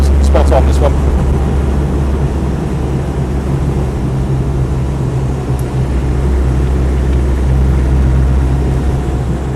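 A Land Rover 90 diesel hardtop driving in fifth gear, its engine a steady low drone with road rumble filling the cabin, continuous and loud throughout, with no talk.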